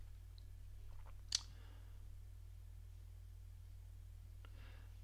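A single sharp mouse click on a create button in a quiet room, one brief crisp tick standing alone against a steady low hum, with a faint softer click later.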